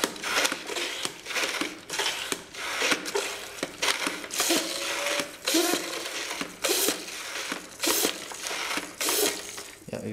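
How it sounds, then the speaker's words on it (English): A Water Warriors Pulse Strike water blaster being pumped, with repeated close, loud mechanical strokes in a steady rhythm and a high-pitched hiss from the overpressure valve once it is fully pressurized. "there's some like high-pitched irritating noise, that's actually the overpressure valve."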